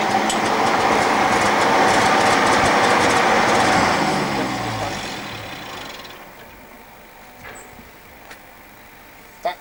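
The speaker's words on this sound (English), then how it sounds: "We're going to disconnect the gas pipe now." An engine fed by a wood gasifier runs loudly and steadily, then slows and winds down over a few seconds into quiet. A few faint clicks and a sharp knock follow.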